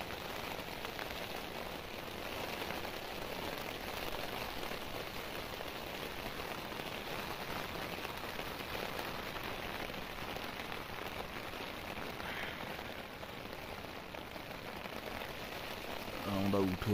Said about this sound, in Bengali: মুষলধারে বৃষ্টি হচ্ছে, তার সাথে হাওয়া চলছে।